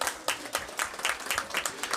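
Audience applause at a school district board meeting, a brief spell of fairly faint, sparse clapping with distinct individual claps at an uneven rhythm.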